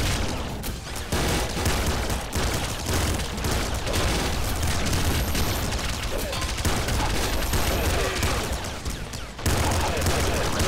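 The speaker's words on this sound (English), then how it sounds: "I got shot from behind!" Constant chaotic gunfire and explosions in the top-down shooter Nuclear Throne, a dense loud barrage of shots and booms running without pause.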